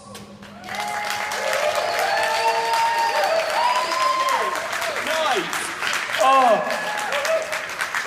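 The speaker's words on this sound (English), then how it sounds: "we like it when people clap at our new ones" Audience applause and cheering after a poem at a vegan festival, a steady crowd roar with whoops and voices over it, a short spoken word near the end.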